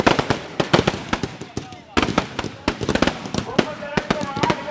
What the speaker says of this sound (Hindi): धीरे धीरे जो है अब कुंभकर्ण में आग लगती जा रही है और अब पटाखों के साथ इसकी हो रही है।